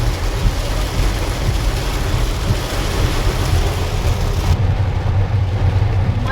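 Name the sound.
heavy rain on a car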